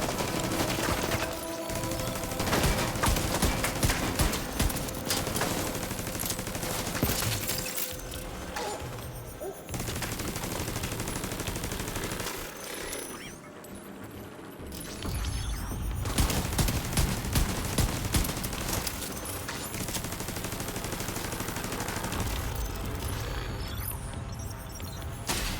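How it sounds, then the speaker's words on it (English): Heavy, sustained automatic gunfire in The Division 2, loud dense bursts rattling almost continuously with brief pauses and crashing impacts, and the player speaking in between. "That fire is absolutely ferocious."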